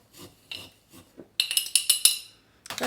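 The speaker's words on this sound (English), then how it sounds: "I'm just using the spoon to knock this down a bit." Metal spoon knocking and scraping dried jalapeños down inside a jar, a quick run of about five sharp rasping taps in a cluster after a few softer rustles, close and fairly loud, with no talking.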